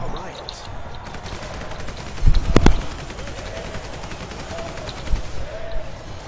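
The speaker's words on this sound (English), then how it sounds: "God, Tommy gun sounds so cool." Tommy gun fire in Super Monday Night Combat: a short, sharp burst of rapid shots stands out in the middle of a busy arena mix, with a fainter shot near the end.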